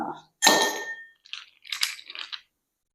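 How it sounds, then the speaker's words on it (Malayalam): Ice cubes are dropped into a glass for a homemade beetroot squash drink: one sharp clinking impact, then a quick cluster of lighter clinks and rattles, close and otherwise quiet. "ആദ്യം നമ്മൾ കുറച്ച് ഐസ് ക്യൂബ്സ് ഇടുക."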